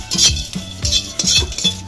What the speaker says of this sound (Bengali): আবার কড়াইটা উনুনে বসিয়ে দিচ্ছে